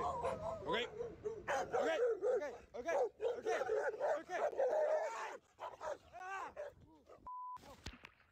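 Several dogs bark, yip and whimper excitedly while attacking a man outdoors, a close, loud run of overlapping barks in bursts with a brief pause near the end.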